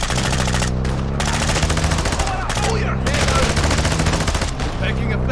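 Call of Duty: Warzone 2 DMZ gunfire, loud sustained automatic bursts close by, broken by brief pauses, with a low droning tone running beneath.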